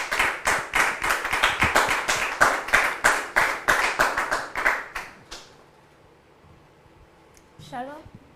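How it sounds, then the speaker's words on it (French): An audience claps in a steady burst of applause for about five seconds, then the clapping dies away and a brief voice follows. "Sous vos applaudissements, s'il vous plaît."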